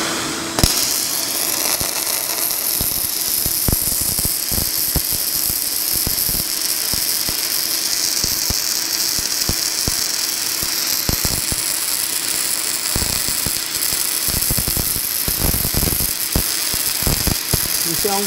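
MIG welding a full run produces a continuous crackling buzz with dense rapid sputtering and occasional louder pops, close and sustained for the whole stretch, with a voice faintly in the background.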